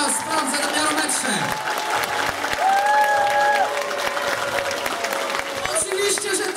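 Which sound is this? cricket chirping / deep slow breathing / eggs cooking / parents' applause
parents' applause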